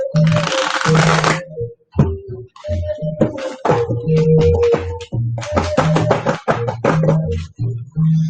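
Riffle shuffling of a card deck, half the deck at a time, gives repeated close crackling bursts of rapid flicks, with short pauses between shuffles.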